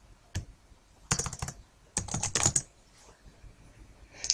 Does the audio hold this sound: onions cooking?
no